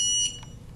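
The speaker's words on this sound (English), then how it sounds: "Beeps." A single short, high-pitched electronic beep from an OPN2002 barcode scanner, followed by quiet room tone.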